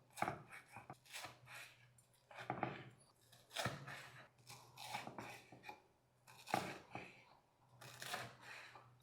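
Crisp crunching cuts through toasted bread as it is sliced into croutons, several close, rhythmic knife strokes in short bursts with brief pauses between them.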